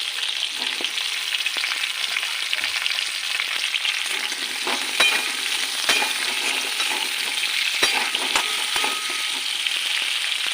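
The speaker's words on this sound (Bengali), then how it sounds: "সামান্য ভাজা ভাজা হোক" Katla fish curry with gathi kochu (taro) under way: something fries in a pan with a steady, close, dense sizzle and a few faint utensil clicks, and no one speaks.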